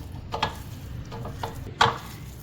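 Chicken shawarma marinade being mixed with oil in a bowl: a few soft, scattered stirring and scraping strokes close by, over a low steady background hum, with no talking.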